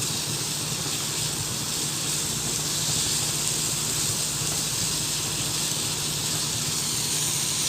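Tomatoes frying with spices in a pan for a chicken fajita filling, giving an even, continuous hissing sizzle that stays steady and moderately quiet throughout.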